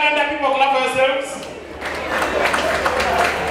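Audience at a Ugandan stand-up comedy show breaking into clapping and cheering after a short stretch of the comedian talking, the applause filling the second half of the clip.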